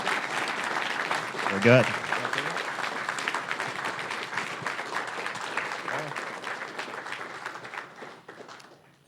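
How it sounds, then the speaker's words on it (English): An audience at a gaming charity marathon finale applauds steadily for the event's head organizer, a dense sustained wash of clapping with a brief cheer near the start, while a few words are spoken over it. "please give him a round of applause for being the main guy who made this whole thing happen"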